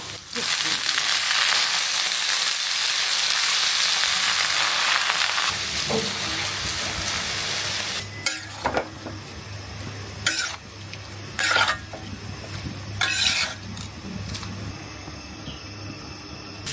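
Jute leaves are tempered in hot oil in a pan, giving a steady, close sizzle that then settles lower, broken by a few sharp clinks of a utensil against the pan.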